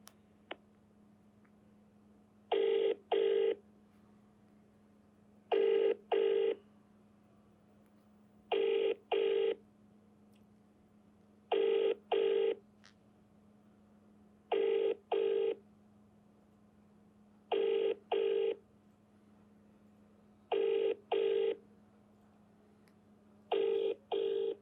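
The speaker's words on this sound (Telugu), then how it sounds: "ఆర్ఎస్ ప్రవీణ్ కుమార్ గారికి ఒక్కసారి మనం కాల్ చేసే ప్రయత్నం అయితే చేద్దాం." An unanswered outgoing call's ringback tone repeats as paired double pulses about every three seconds, steady and moderately loud over a faint low hum, with no voice answering.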